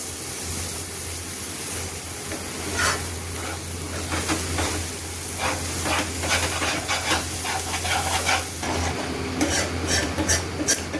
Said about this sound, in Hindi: अब इसको मैं इसी मसाले में डाल दूंगी